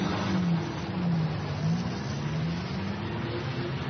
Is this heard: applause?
no